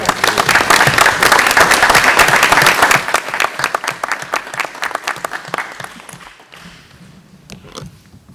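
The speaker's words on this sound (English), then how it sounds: "We give them a round of applause." Audience applause at a board of education meeting, loud and dense for about three seconds, then tapering into scattered claps that fade out.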